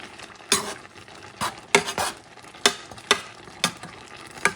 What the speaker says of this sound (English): I'm going to do some mixing.